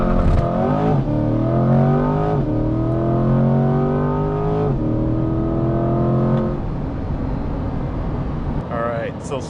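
A Corvette in sport mode accelerates hard with wheels spinning, its engine note climbing through rising harmonics across several gear pulls before easing off, loud and close from inside the car.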